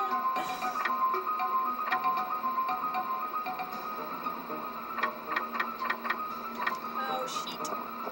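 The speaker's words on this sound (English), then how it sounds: "I hear ticking. Why do I hear ticking?" Irregular ticking in the PS2 game Shadow of Destiny (Shadow of Memories), scattered clicks over a steady humming, tonal game soundtrack at moderate level.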